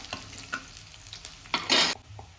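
Crushed garlic and curry leaves fry in a pan for a kathrikai kadayal, a quiet sizzle broken by a few light stirring scrapes and one short, louder burst of sizzling near the end.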